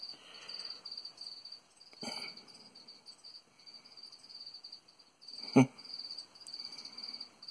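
A pet cricket gives off a continuous high-pitched chirping trill, close and fairly steady, with brief gaps and a sharp rustle or thump partway through; no one speaks.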